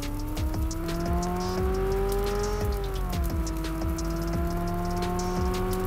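Engine of a McLaren supercar in a video game, a steady loud droning hum with rising and falling pitch as it revs, continuous throughout with faint clicks and patter on top.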